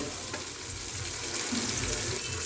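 Green chillies, onions and masala fry in a pan while being stirred, giving a soft, steady sizzle with light scraping, fairly faint and without talk.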